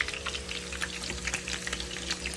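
Marinated steak sizzles in a frying pan with a soft, steady crackle and scattered popping spatters, heard close and without talk.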